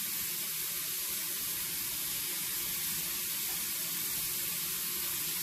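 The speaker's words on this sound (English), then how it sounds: "So I'm just going to rinse that off." Running tap water splashes steadily and loudly while a face is rinsed during a nighttime skincare routine, a continuous broadband spray with no talking.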